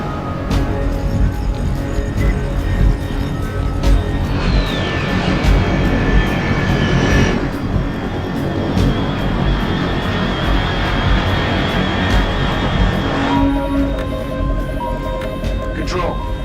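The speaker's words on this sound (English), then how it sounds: "Control, unidentified aircraft detected." Aircraft engine drone in the stealth game Metal Gear Solid Delta, a steady propeller or jet roar sustained throughout, with a tonal whine sweeping past midway under continuous game sounds and radio voices.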